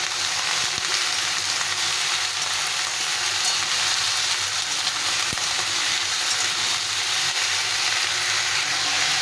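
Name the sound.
mixed vegetables being stirred and fried in a pan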